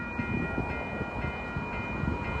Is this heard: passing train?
yes